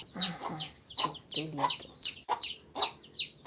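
Chickens clucking in short repeated bursts close by, with a person speaking briefly over them.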